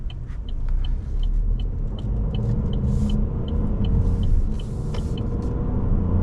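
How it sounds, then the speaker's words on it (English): Three-cylinder engine of a 2024 Buick Encore GX Sport Touring while driving, a steady throaty low rumble heard from inside the cabin, with faint intermittent ticking and light road noise over the continuous drone. "Three-cylinder has a very throaty sound to it."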